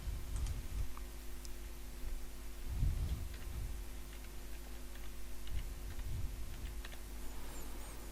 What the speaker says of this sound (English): The heading of the slide, I'm going to type unemployment.